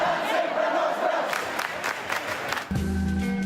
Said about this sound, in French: En moins d'une heure, les ministères sont assiégés par la foule.